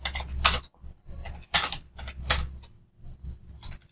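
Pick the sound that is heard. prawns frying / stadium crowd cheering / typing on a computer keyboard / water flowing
typing on a computer keyboard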